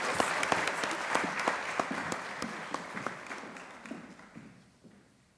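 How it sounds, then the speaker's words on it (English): An audience at a spring college honors night in East Georgia applauds, a dense wash of many hands clapping that holds steady and then fades out over a few seconds. "So we can go ahead and give him applause anyway."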